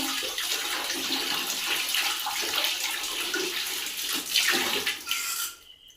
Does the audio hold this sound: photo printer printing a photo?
no